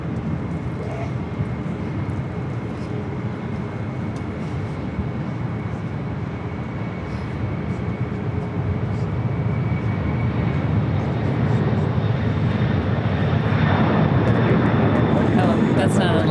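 A Boeing 767 cargo jet arrives at LAX, its engine roar a steady broad rumble that slowly swells louder toward the end, with people talking over it throughout.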